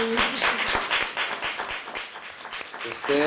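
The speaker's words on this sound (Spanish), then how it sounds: "un aplauso de..." An audience at a film event with a director, discussing La Llorona, applauds with moderate, scattered clapping partly mixed with talking voices.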